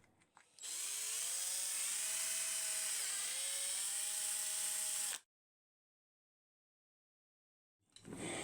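A power drill bores a 5.5 mm hole through a blanked plastic moulding piece, a steady high whine running about four and a half seconds with slight pitch dips, then stopping abruptly into silence.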